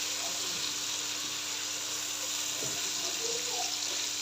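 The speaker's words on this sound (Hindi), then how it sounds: "नॉर्मल आंच पे तकरीबन 4 से 5 मिनट के लिए चिकन को फ्राई कर लेंगे" Chicken frying in a pan over a normal flame for a Shimla mirch, potato and chicken dish: a steady, even sizzle and hiss throughout, with a few faint clinks beneath it.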